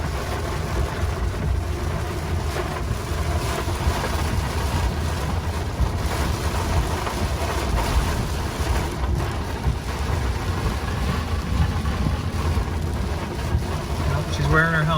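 Heavy rain pounds steadily on a Ford F-150 Lightning electric pickup driving through a thunderstorm near Myrtle Beach, with a continuous dense roar and low rumbling throughout.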